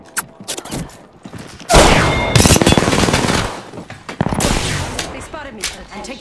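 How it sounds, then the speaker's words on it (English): Gunfire in the video game Apex Legends, a few sparse early shots giving way to loud sustained automatic bursts and rattling fire, close and heavy, with a voice speaking faintly underneath. "I'm taking shots."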